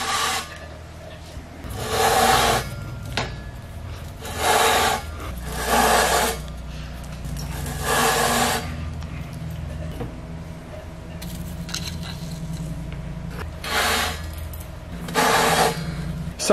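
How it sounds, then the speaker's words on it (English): A reamer cuts into a bicycle head tube lubricated with cutting oil, giving repeated bursts of harsh metallic rasping roughly every two seconds, each lasting about a second, over a low steady background hum. "So I've worked the reamer all the way into the bore to where the facer is starting to make contact."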